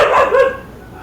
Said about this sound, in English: Why can't you sound more like a husky instead of bark, bark, bark?